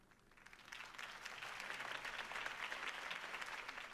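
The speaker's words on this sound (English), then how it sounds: "could have heard that applause" A crowd applauds after Harvey Dent's campaign speech in the Batman Telltale video game, the clapping swelling from quiet to a full, sustained ovation of many hands, fairly distant.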